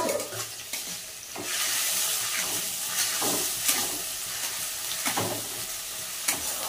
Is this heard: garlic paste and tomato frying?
yes